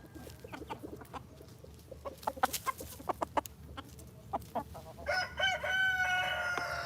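Chickens in a farmyard in Georgia cluck in short scattered bursts, then a rooster crows loudly and close, with some faint background noise and no talking.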